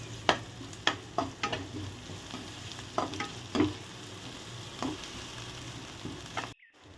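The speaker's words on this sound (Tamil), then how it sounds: "அது கூட கருவேப்பிலை இந்த கட் பண்ணி வச்சுருக்க பச்சை மிளகாய் ரெண்டுத்தையும் சேர்த்துக்கணும் ரெண்டுத்தையும் சேர்த்து நல்லா வதக்கும்" Curry leaves and cut green chillies sautéing in a pan for a blood poriyal: a continuous oily sizzle broken by regular spoon strokes and scrapes, close, then a sudden stop at the end.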